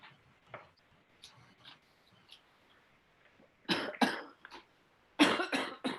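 Someone in a hearing-board meeting coughs in two sharp clusters of several coughs, close and loud, after a stretch of faint, scattered background noises.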